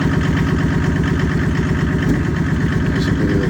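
A Mercedes W126 with a swapped OM606 diesel engine idles on its first start, a loud, close, steady clattering rumble with an even rapid pulse and no voices.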